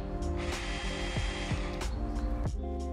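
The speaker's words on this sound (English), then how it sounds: "please grab the impact driver from your tool cart and use it to secure the bolts that hold the flashing" Impact driver in a VR solar installation game, securing the bolts that hold roof flashing: a steady mechanical whir with repeated sharp hammering bursts and rattling clicks, loud and close, with no talk.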